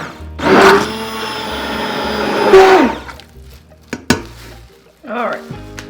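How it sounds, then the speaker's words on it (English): A blender whirs through hot process soap batter in a loud two-second burst, stops, then gives a short whine later, separated by clunks and a brief muffled voice. "Blend it again"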